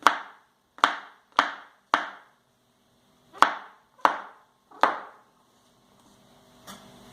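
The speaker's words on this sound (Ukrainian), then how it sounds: "Потім кубиком наріжемо грибочки." A knife dices mushrooms on a cutting board: seven sharp, close strikes in an uneven rhythm with short pauses, then faint clatter at the end.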